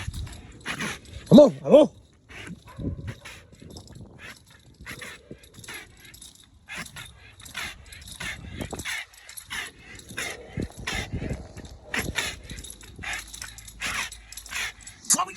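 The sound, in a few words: American Bully dog growling while tugging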